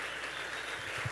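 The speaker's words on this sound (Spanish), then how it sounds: "Denle un aplauso al Señor." Steady crowd applause fills a church during a service, a dense continuous patter of many hands clapping at an even level.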